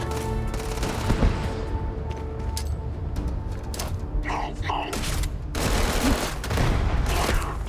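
Minigun fire in the video game Starfield comes as dense mechanical rattling bursts of rapid shots, loud and sustained with brief pauses, amid other game combat noise.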